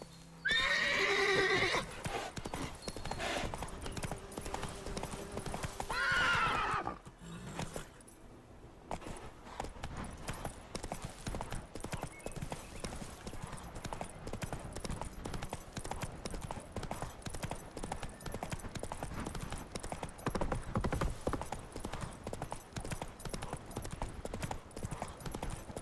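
Horse in the game Witcher 3, with a whinny and hoof clip-clops at the start, then a steady galloping rhythm that continues under game ambience and scattered dialogue.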